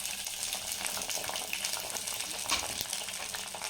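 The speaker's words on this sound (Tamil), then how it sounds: "கடுகு பொரிஞ்சதுமே சுண்டக்காவை சேர்த்துக்கலாம்" Turkey berries drop into oil with spluttering mustard seeds, producing a dense, crackling sizzle that stays fairly quiet and continuous, with faint popping throughout.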